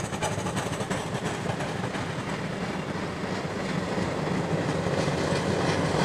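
A long Norfolk Southern freight train of white tank cars rolls past at close range in Pennsylvania, a continuous loud rumble with rhythmic wheel clatter that swells slightly, and no voices.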